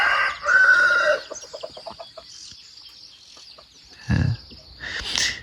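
Chickens at a quiet hill village, with loud clucking up close, a rooster crowing, and scattered short calls, some nearer and some farther off.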